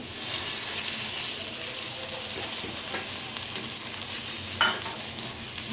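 Ground cumin, ginger, garlic, coriander, turmeric and chili powder go together into a frying paste for chicken kosha, giving a continuous sizzle with stirring scrapes and a brief louder clatter near the end.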